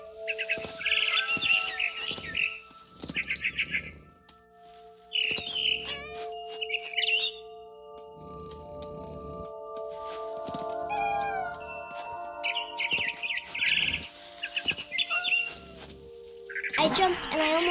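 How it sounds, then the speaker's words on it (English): A barn swallow chirps in bursts in the video game What Remains of Edith Finch, the quick calls mixed with cat meows and caterwauls over sustained game music. "Then I heard chirping outside my window. It was a barn swallow going back to her nest."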